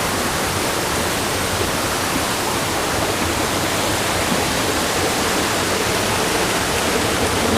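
Drake's Brook, a cold mountain stream in New Hampshire's White Mountains, rushes in a loud, constant broadband roar that stays steady throughout with no voices.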